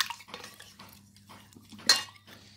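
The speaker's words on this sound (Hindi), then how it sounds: "ब्रोकन क्ले पॉट को वॉश कर ले रही हूँ मैं।" Broken clay pot pieces clink and scrape against each other as they are swished and washed in water, with sparse close clatters and one sharper knock.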